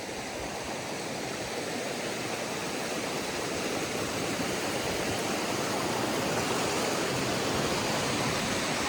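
A powerful waterfall and flood-swollen river in Kullu Manali rush in a loud, continuous, close roar of churning water that stays steady throughout.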